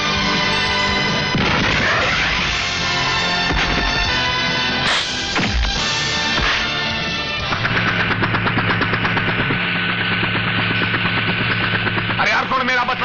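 A bomb blast booms amid a loud, chaotic action-film score, with crashing impacts and rumbling explosions mixed into dense music.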